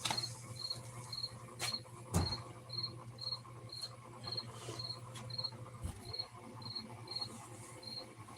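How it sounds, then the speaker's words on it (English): Steady, evenly spaced high chirps from crickets on a cold night repeat through the whole stretch over a low constant hum, with a few brief knocks and thumps in between. "crickets are getting cold. Hear them chirping."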